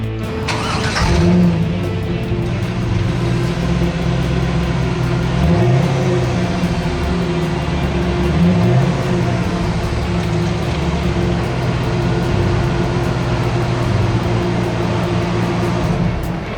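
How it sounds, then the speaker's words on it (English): A stock-exhaust 2000 Chevrolet Camaro SS with an LS1 V8 rumbling steadily at idle, a deep continuous low drone with a few gentle rises in revs, close and loud with no talking. "you can see the stock pipes sticking out, which emit that great LS1 rumble"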